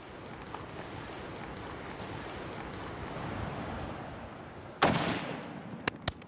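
A single sharp hunting-rifle shot cracks near the end of a quiet outdoor stretch with wind noise, followed by a decaying echo and a couple of small knocks.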